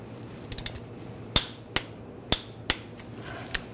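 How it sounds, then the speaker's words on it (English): A torque wrench tightens a front lower control arm bolt on a 2009-2017 Volkswagen Tiguan, giving a handful of crisp metallic clicks and clanks, spaced unevenly, against a quiet workshop background. "this bolt we're going to torque to 65 foot-pounds"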